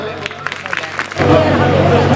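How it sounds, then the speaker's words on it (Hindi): An audience at a Bhima Koregaon Shaurya Diwas gathering breaks into applause to welcome a speaker. A voice talks first, then a broad, steady wash of clapping from the crowd rises and continues. "आप सभी से अनुरोध है कि तालियों के साथ उनका स्वागत करें"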